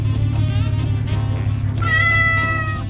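A cat meows in the video game Pumping Simulator 2, a clear, close, drawn-out call in the second half over a steady low game hum, with no talk.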